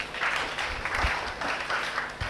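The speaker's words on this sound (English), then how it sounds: "big round of applause for her" Audience at a national-level Ayurveda workshop applauding, a steady wash of many hands clapping at moderate distance, continuous and fairly even throughout.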